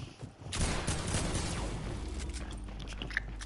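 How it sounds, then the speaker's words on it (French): A burst of video game gunfire crackles in a dense, continuous volley of shots amid rumbling battle noise, moderately loud and steady throughout. "Bien joué, tu la rafales."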